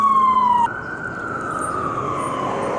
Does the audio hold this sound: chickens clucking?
no